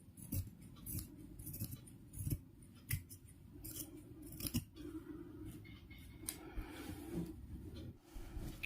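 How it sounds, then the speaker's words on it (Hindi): Scissors snip away excess cloth around the stitched edge of a small doll dress, a close series of crisp irregular cuts and clicks with short pauses between them. "अब हम इसे बाहर की तरफ से एक्स्ट्रा कपड़ा काट लेंगे इस तरह से"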